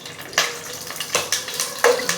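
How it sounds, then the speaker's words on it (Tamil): Cinnamon, cardamom, clove, star anise and bay leaf sizzling in hot oil, with loud rhythmic stirring strokes every half second or so over the crackle. "பட்டை, ஏலக்காய், கிராம்பு, ஸ்டார்ப்பு உடச்சி வச்சுருக்கேன், இதை போடுறோம்."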